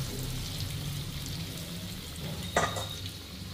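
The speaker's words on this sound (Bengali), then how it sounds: "এইভাবে ধীরে ধীরে আমি বাকি বড়াগুলোকেও তেলে ছাড়ব।" Lentil fritters frying in oil on low heat make a steady close bubbling sizzle, with a brief louder splash-like crackle near the end as another fritter goes in; no speech.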